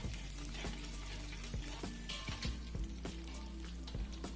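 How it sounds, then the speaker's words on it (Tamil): Chana dal and urad dal frying in hot oil for hotel-style idli chutney, a steady close sizzle with scattered soft pops and crackles throughout, no talk. "3 ஸ்பூன் அளவுக்கு கடலைப்பருப்பு, 3 ஸ்பூன் அளவுக்கு உளுத்தம் பருப்பை வந்து எண்ணெய் நல்லா காஞ்ச பிறகு சேர்த்துக்கோங்க"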